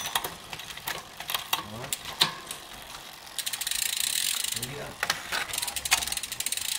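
Shimano 105 11-speed drivetrain on a carbon racing bicycle with Kenwin wheels, freewheel ratcheting in a steady close clicking buzz, with sharper clicks of gear shifts scattered through and a faster, louder ratchet run in the second half.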